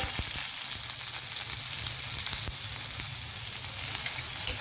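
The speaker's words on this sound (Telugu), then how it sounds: "ఇప్పుడు డైరెక్ట్ మనం ఆనియన్ వేసేయచ్చు." Onions sizzle steadily in hot oil in a pan, cooked as a base for a ridge gourd coconut fry, a continuous close frying hiss with faint crackles and no one speaking.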